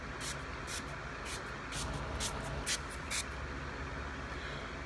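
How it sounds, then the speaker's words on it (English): Several quick bursts of makeup setting spray being spritzed onto a face, short hissing puffs in uneven rhythm over a low background rumble. "And spritz it all over my face."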